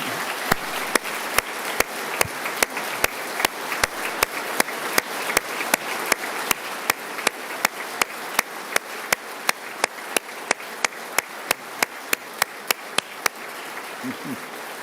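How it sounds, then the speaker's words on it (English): A crowd on a state house floor claps during a State of the State address, a steady stream of applause punctuated by sharp, regular clicks. "Will you please give her a round of applause?"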